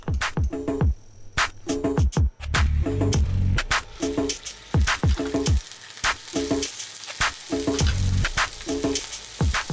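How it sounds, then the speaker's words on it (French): Scallops pan-frying in hot cocoa butter sizzle loudly and close, with repeated sharp crackling bursts and spatters in an uneven rhythm over a steady frying hiss. "on va poêler les Saint-Jacques"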